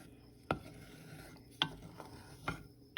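Tomato paste is spread and scraped across a pan for a francesinha sauce. Faint, separate scrapes of a utensil come every second or so over a quiet background, with no talk.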